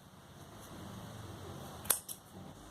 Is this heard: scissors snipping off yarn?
yes